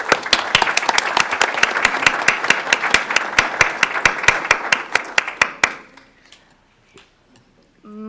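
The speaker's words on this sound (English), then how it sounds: "So let's give them a round of applause." Students at a school board meeting are applauded: a fairly small group claps in loud, distinct, rhythmic strikes for about six seconds, then stops abruptly into near silence with faint clinks.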